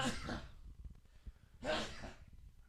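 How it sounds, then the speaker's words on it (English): Two breathy bursts, a sharp sneeze-like exhale and then another a second later, close and fairly quiet. "I have to sneeze"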